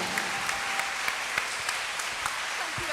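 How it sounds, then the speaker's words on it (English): An audience claps steadily, a dense wash of applause sustained throughout at moderate volume. "Can I ask you to give a round of applause"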